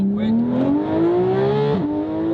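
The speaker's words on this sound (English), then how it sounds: "An exhaust note for you guys." Old-school Porsche GT3 RS in flappy-paddle mode, its exhaust note climbing steadily in one smooth, loud, close rev, with a brief dip near the end as it shifts and then carries on.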